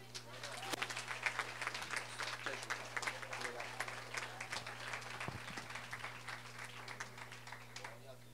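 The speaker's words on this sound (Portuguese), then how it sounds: "Pai, aplaude a Jesus" Dense, continuous applause from a church congregation, many hands clapping together over a steady low hum.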